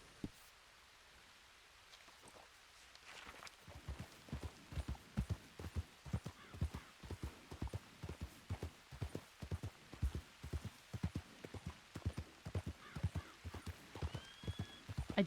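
Horse hooves clip-clop in a steady walking rhythm in Red Dead Redemption 2 roleplay, beginning after a few quiet seconds and continuing clearly and evenly at moderate volume with soft background hum.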